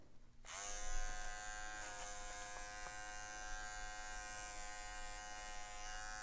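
A BestElectric electric seam ripper buzzes steadily and close up, starting abruptly after a brief quiet moment and holding a continuous high whine with slight pitch wobbles while it cuts through stitching.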